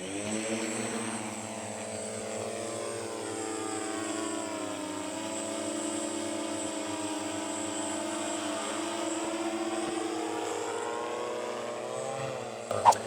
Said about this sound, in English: After that, the drone is armed and we are ready to take off.